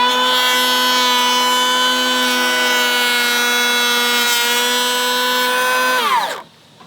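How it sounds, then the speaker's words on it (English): A DeWalt cordless planer runs a pass over wood with a loud, steady high whine rich in harmonics, close up, then spins down and cuts off abruptly near the end. "I want to take a little more material, really create some sawdust here"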